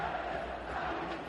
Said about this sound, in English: The fans are in the game, booing.